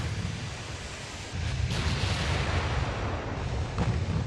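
Naval gunfire in the video game Ultimate Admiral Dreadnoughts, aimed at the battleship Tosa: a dull, distant boom opens into a broad rumbling wash, with another faint thump near the end.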